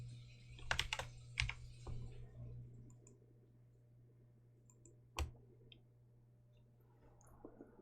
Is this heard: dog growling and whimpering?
no